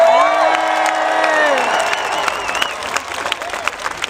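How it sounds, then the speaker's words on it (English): At a live outdoor Hyde Park event honouring cyclist Sir Chris Hoy, a large crowd claps and cheers loudly, with whoops and shouts at first. The applause then thins into scattered clapping. "Round of applause for him."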